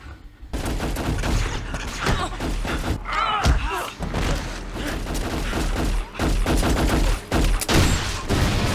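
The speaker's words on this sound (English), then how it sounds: "It's a grenade launcher." A grenade launcher fires in a Battlestar Galactica episode among loud booming blasts and rapid bursts of gunfire with heavy thuds, mixed with people talking.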